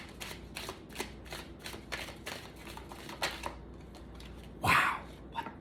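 Tarot cards are shuffled by hand in a quick series of crisp riffling snaps and taps, close and soft, ending in a louder brush of cards, with no talk.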